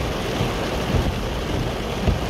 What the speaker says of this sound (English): it's raining somewhat frickin' heavily, massive surface flooding